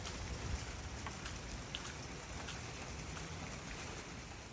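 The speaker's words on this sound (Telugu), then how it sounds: "మళ్ళీ వర్షం ఎక్కువైపోతుంది" Rain coming down heavier over a garden with peach and fig trees, a dense, even hiss of drops on leaves and surfaces, steady and moderately distant, with no voices.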